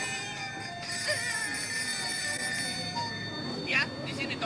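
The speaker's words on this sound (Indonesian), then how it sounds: "Telepon Nobita." A telephone rings in a cartoon scene, a steady electronic ringing tone running throughout, with a brief higher chirp near the end and faint background sound beneath.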